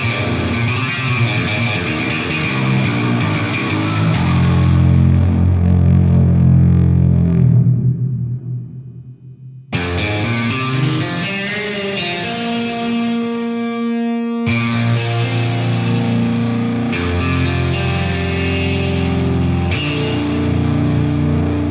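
A heavily distorted electric baritone guitar, played through a distortion box, plays sustained, gritty low chords and notes, loud and alone, with a brief dip near the middle.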